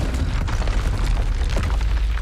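Confringo blasting spell explosions in the Hogwarts Legacy video game, loud booming bursts with rumbling low-end, crowded together amid combat noise over two seconds.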